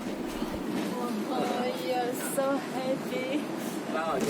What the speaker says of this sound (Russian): мы сейчас едем на двухэтажном трамвае